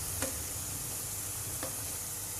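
Onion peyaju fritters fry in hot oil with a steady, close, broadband sizzle, broken by a couple of faint clicks from a utensil.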